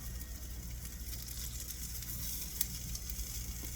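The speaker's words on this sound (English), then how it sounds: "we're just going to let them fry on the other side here" Tater cakes fry in a hot pan, giving a constant, soft crackling sizzle that stays even and fairly faint throughout, with one small pop and no speech.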